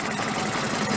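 A 1964 Vespa VBB 150 scooter engine idling with the throttle fully closed and the choke off, a steady, dense mechanical chatter running throughout, close and fairly loud with no voices.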